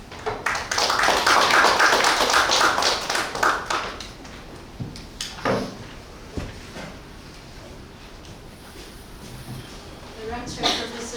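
An audience at an international seminar on pandemic treaty negotiations gives a burst of applause to welcome a speaker, dense clapping for several seconds that thins to scattered claps before a voice begins talking.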